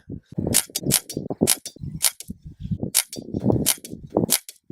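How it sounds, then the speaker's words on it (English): An SMK CR600W Victory air rifle fires about seven sharp, snappy pellet shots at a box roughly 15 yards away, spaced unevenly over a busy, fairly loud background. "I'm now going to be taking 7 shots at that face on the box"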